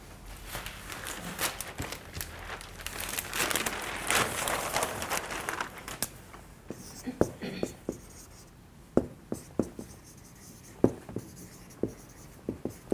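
Pen on paper writes close by, first as continuous scratchy scribbling and then as a sparse series of sharp taps and strokes, fairly faint and mixed with a speaking voice.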